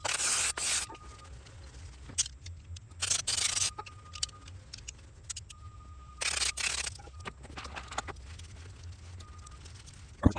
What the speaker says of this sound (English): So I'm just going to take a little brake cleaner to this.